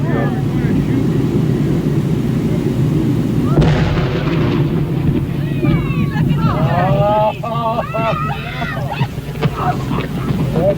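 Explosives blast apart a beached whale carcass: a sudden broad boom rises out of steady wind noise around the midpoint, followed by a crowd of voices and shouts continuing over the rumbling aftermath.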